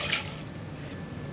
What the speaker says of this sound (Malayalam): ഇനി 1/2 കപ്പോളം കൂടി ബാക്കിയുണ്ട്. അപ്പോൾ ആ വെള്ളം കൂടി നമുക്ക് ഇതിലോട്ട് ഒഴിക്കാം.